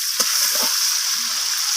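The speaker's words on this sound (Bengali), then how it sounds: "মাছের তেলটাকে আমি এইভাবে ভেজে নিচ্ছি" Rohu fish fat fries in oil with a bright, even sizzle that hisses steadily close up, with a few faint pops and stirring sounds underneath.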